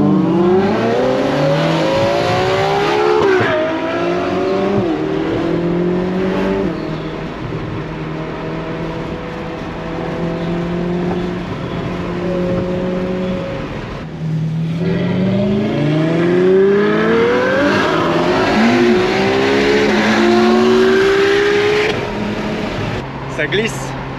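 Ferrari SF90 and 812 GTS engines rev and accelerate hard, close and loud, with rising and falling pitch sweeps through repeated gear changes over steady road roar, with voices faintly under the engines.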